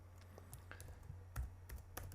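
Computer keyboard keys tapped in short irregular clicks, a few louder strokes among lighter ones, close and fairly quiet over a low steady hum, with no voices.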